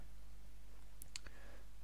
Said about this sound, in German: Deswegen klicke ich jetzt mal auf Datei und Speichern unter.